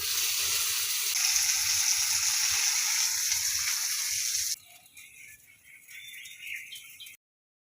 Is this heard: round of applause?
no